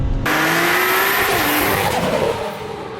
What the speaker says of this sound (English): Love the sound of that Garret turbo, the noises.